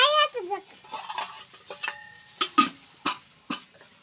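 Spices frying in a little oil in a pan while being stirred: a soft sizzle under a series of sharp scraping clinks from the spoon, with a brief voice at the very start.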